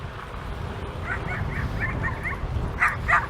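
A dog gives a series of small yips and barks at moderate distance over steady low road rumble heard while riding a Rad Power electric fat-tire folding bike.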